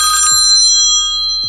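An incoming phone call ringtone plays loud and close, a steady electronic melody of sustained tones with soft low thumps repeating underneath.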